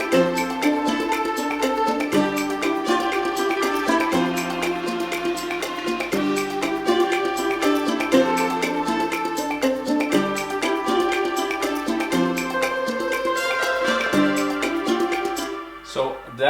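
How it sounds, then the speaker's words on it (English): Short trumpet stabs from the Leah Bertucci sample library punctuate a dense, continuous stock-music arrangement, forming a secondary melody in a busy, steady mix that plays without speech until a brief break near the end. "I introduced some trumpet stabs in this case"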